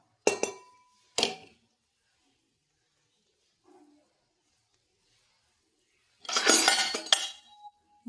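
Tapioca with ground masala paste stirred in a cooking pot: two short clinking scrapes near the start, then a longer, louder burst of metallic stirring and scraping toward the end, with quiet gaps between.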